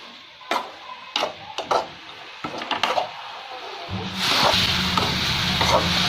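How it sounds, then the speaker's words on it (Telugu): Coriander and mint leaves fry in a pan for a chutney, with a few light clicks and stirs before a steady close sizzle takes over and continues to the end. "ఇలా పచ్చి వాసన పోయే వరకు ఫ్రై చేసుకోవాలండి కొత్తిమీర అండ్ పుదీనా రెండింటిని"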